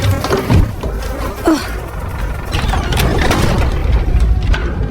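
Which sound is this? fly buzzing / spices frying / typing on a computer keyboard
fly buzzing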